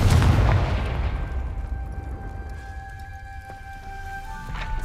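Booming blast of the Confringo spell in Hogwarts Legacy, a loud low-heavy explosion at the start that decays into a long rumbling tail while faint magical ringing tones hang behind it.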